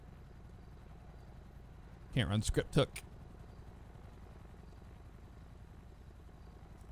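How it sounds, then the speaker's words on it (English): A helicopter in a GTA roleplay game gives off a steady low droning rumble that runs through the whole stretch. A short burst of talk cuts in about a third of the way through. "That's a helicopter. I think that's an air unit."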